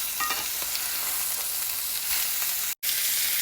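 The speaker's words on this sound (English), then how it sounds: "I'm going to go ahead and flip the steak over." A New York steak seasoned with salt and pepper sears in a hot pan just after being flipped, giving a loud, dense, continuous sizzle up close with a brief cut near the end, no speech.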